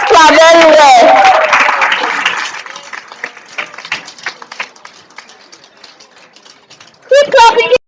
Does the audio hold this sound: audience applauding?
yes